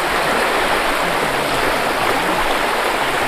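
Rushing river water flows loud and steady, a continuous broadband wash like a stream heard up close while wading across a fairly deep river, with no voices over it.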